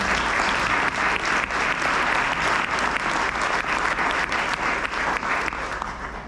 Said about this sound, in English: why don't you all really quick give yourselves a round of applause for being here today